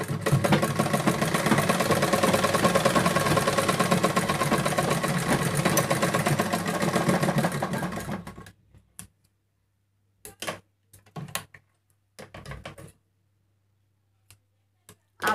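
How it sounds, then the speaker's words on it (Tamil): A sewing machine runs a straight seam on an elastic waistband, whirring loud, close and steady for about eight seconds before stopping. A few short handling clicks and fabric rustles follow. "இப்போ ஸ்ட்ரெயிட்டாக ஒரே தையல் தான்."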